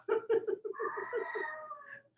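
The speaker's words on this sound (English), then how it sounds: "kitty cat" A cat meows, starting with a quick series of short chirping calls and ending in a longer drawn-out meow, close and fairly clear indoors.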